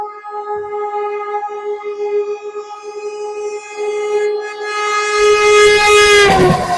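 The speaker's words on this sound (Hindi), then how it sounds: "यहाँ पे ओवरटेक करने के लिए पीछे से आ रही है अमृतसर वंदे भारत एक्सप्रेस" An Amritsar-bound Vande Bharat Express from Old Delhi overtakes from behind, its horn blaring in a long steady tone before a rising roar as the train rushes past close by.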